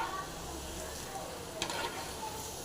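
Cauliflower 65 pieces frying in hot oil, giving a steady close hiss and sizzle with a brief burst of crackle partway through as the pieces are turned.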